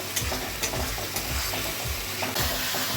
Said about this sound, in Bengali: তো এই পেস্টটা আমি এখন দিয়ে দেবো। এটাকে কষিয়ে নেব।